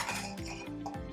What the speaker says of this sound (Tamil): மட்டனை சேர்த்துட்டு நம்ம நல்லா ஒரு 5 மினிட்ஸ்க்கு வதக்கி விட்டுக்கலாம்.